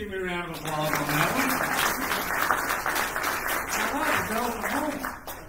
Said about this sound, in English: Give me a round of applause on that